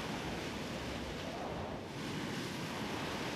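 A force 9 North Sea gale: a dense, continuous roar of storm wind and crashing waves with no break.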